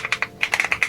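Rapid typing on an AKKO 5098B 96% keyboard with a plastic chassis, about eight crisp, close keystrokes clacking in an uneven quick rhythm with no voices.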